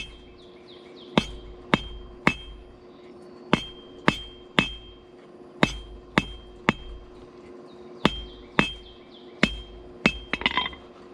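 A blacksmith hammers a forged leaf on an anvil, with sharp ringing blows landing at an irregular pace, sometimes in quick pairs, close and clear, and a brief clatter at the end.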